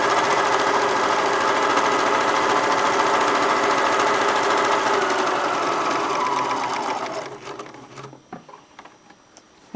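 A sewing machine stitches in the ditch along a quilt seam, running steadily and loudly for about seven seconds before it stops, followed by a few soft handling clicks and rustles.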